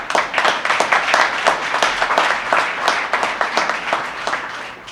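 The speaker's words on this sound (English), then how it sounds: "give yourself a round of applause for that" An audience applauding at a small business initiative event, a dense round of many hands clapping steadily for about five seconds, moderately loud and without speech.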